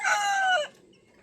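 A rooster crows once, loud and close, its call rising and then dropping off sharply before a quiet tail of room noise.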